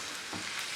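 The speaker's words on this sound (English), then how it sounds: "So we're just going to brown the mince off in a frying pan in a little oil over a medium heat." Minced meat browns in a little oil in a frying pan over medium heat, giving a steady, even sizzling hiss with a slight surge partway through.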